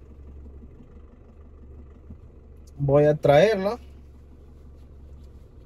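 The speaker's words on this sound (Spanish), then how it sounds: "ahorita voy en el vehículo porque tenemos una gente por ahí regada" A car engine idles low and steady beneath a man driving alone in a vehicle, with a steady low rumble throughout and a short burst of his speech in the middle.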